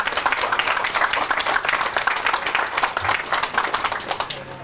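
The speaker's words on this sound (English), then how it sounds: "Let's give him a big round of applause." Loud, close applause from a Veterans Day remembrance audience honoring the chair of a county veterans commission, dense rapid clapping sustained throughout.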